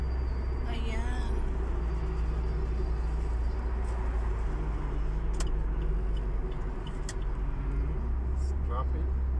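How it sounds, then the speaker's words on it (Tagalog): Road traffic is heard from inside a vehicle on a long journey, as a constant low engine and road rumble. Faint horn-like tones and brief clicks come through, and people talk over the hum. "Traffic."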